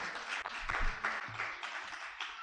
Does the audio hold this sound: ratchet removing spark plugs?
no